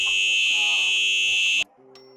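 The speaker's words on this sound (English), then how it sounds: "the fire alarm went off in our entire dorm hall, so we had to evacuate" A dorm hall fire alarm blares in a steady, piercing electronic tone, loud and close, then cuts off abruptly, leaving a faint lower buzz and room noise.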